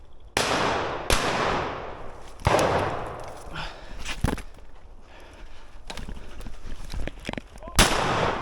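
Shotgun blasts during a woodcock hunt in the field, several sharp loud shots spaced irregularly with decaying echoes, followed by quieter rustling and movement.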